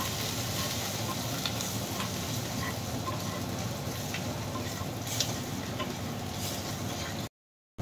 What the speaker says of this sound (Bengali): স্বাদ মতো লবণ, জিরে গুঁড়ো দিয়ে একটু নাড়াচাড়া করে নিতে হবে।